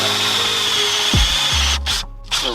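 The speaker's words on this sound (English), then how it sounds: "Poor drill's just getting a little tired." A tired power drill works on a boat windlass installation. Its motor whines steadily, then bogs down and winds lower in pitch before stopping, followed by a couple of short, loud bursts of drilling up close.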